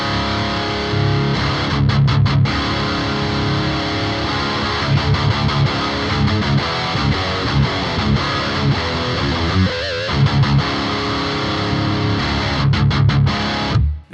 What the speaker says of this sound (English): you can hear when I bring that in, it boosts the distortion on the amp, but it also tightens up the low end